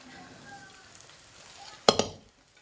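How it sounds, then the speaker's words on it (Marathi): Egg rice fries with salt and masala in a pan, a low close sizzle that ends in a couple of sharp clanks as a utensil strikes the pan. "मस्त फ्राय फ्राय फ्राय करून घेते बघा"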